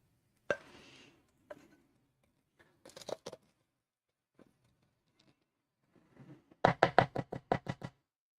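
A spatula stirs banana date nut muffin batter in a bowl, giving scattered single knocks and scrapes in a quiet room, then a quick rhythmic run of about eight taps.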